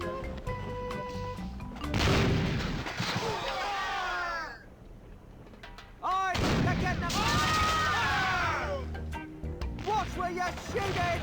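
Cannon fire booms in The Curse of Monkey Island video game: two long, loud blasts with crashing debris and whistling tones, separated by a short lull, with a voice speaking over the noise.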